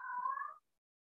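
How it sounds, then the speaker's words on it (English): A cat gives a single short meow, fairly faint and somewhat distant, in an otherwise quiet indoor room, then silence follows. "Sorry for the cat."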